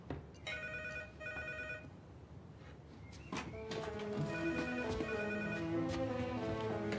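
An electronic telephone ringing in two short bursts, then a busier stretch of overlapping tones and clatter, with faint background noise throughout.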